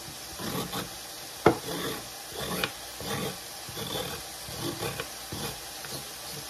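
Carrots are shredded very finely on a grater in a home kitchen. Steady, rhythmic rasping strokes repeat about twice a second, close and moderately soft, with one sharper knock partway through.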